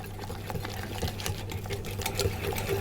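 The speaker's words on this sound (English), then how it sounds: "I'm just going to whisk it round" Quick whisking of icing sugar into creme fraiche in a jug, a steady soft rhythmic tapping and swishing close by.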